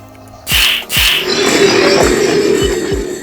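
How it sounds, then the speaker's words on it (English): A Roblox Dinosaur Simulator growl effect opens with two sharp hissing bursts and then settles into a steady, glassy, ringing wash, with soft low thumps repeating underneath like snow globes being smashed. "It really sounds like someone is smashing snow globes in the background."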